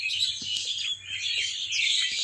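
Dense chorus of many birds chirping and twittering continuously at dusk, a busy flock calling together with no voices.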